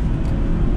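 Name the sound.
Jaguar V8 engine roaring while accelerating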